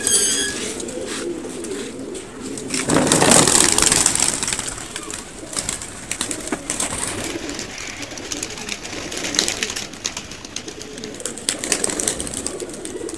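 Pigeons let out of their cage, with a burst of wing flapping near the start, then scattered cooing, rustling and small movements close by, and someone talking quietly at times.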